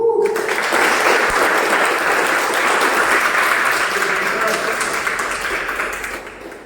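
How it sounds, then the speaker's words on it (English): An audience at a Toastmasters speech meeting breaks into loud, sustained applause for the next speaker taking the stage, a dense roar of clapping that slowly fades toward the end, with faint voices underneath. "Let's have a huge round of applause for him."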